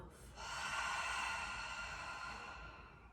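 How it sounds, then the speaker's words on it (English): A single deep inhale drawn through the nostrils during a yin yoga breathing exercise, a soft, airy, close rush of breath lasting about two seconds in a quiet room. "Together we'll just take a deep inhale through the nostrils, filling up the lungs"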